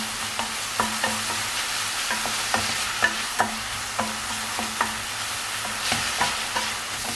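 Onions frying in a pan with a teaspoon of sugar added to caramelize them, a steady close sizzle under repeated sharp clicks and scrapes of a spoon stirring against the pan, with no talk.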